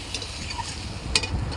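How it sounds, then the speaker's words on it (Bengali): Potatoes and spice masala sprinkled with a little water, sizzling and being stirred in a pan for rohu fish kalia, a brief close hiss with a sharper scrape near the end. "হালকা করে একটু জল ছিটিয়ে আমি মশলাটা ভালো করে কষে নেব।"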